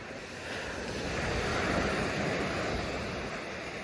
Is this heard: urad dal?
no